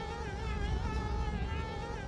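Bees buzz continuously in the video game Conker's Bad Fur Day, a steady wavering drone at moderate level with no speech.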